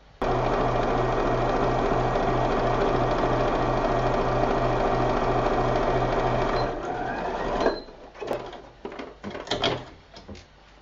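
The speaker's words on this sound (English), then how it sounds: "I'm going to sew across this top line" Sewing machine running steadily across the top seam of two fabric pieces placed right sides together for a patchwork satchel, a continuous loud whir with regular pulsing for about seven seconds, then stopping and giving way to handling clatter.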